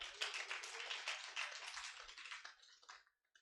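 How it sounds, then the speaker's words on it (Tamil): A Catholic congregation breaks into brief applause, a quick scatter of many hands clapping together. The applause is moderately loud and tapers off over about three seconds, with no talk over it. "கைத்தட்டுங்கப்பா"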